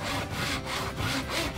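A hand saw cuts through wood for an electric guitar build, with steady back-and-forth strokes in a quick, even rhythm, close and moderately quiet, with no talking.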